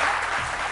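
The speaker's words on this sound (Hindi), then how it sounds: "हीरा के लिए जबरदस्त तालियां" Studio audience applause for actress Hira Mani on a Pakistani morning talk show, a dense steady wash of clapping filling a brief moment.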